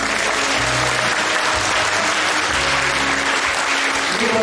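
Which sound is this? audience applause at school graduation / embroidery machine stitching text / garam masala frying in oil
audience applause at school graduation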